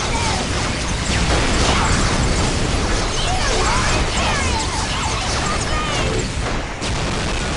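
Incoming enemy fire in Dawn of War Soulstorm sounds as dense, continuous battle noise, with loud bursts, booms and crashes piling over one another for several seconds.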